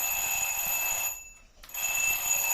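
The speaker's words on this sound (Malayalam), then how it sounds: "അലാറം കേട്ട് ചാടി" A bedside alarm clock rings in a steady, continuous electronic tone that cuts out briefly near the middle and then resumes, close and loud with no voices.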